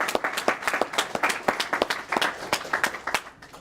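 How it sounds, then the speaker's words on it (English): A small group claps for students at a school event, individual sharp claps clearly separated in a brisk, uneven rhythm, fairly close and moderately loud. "I think you deserve another round of applause."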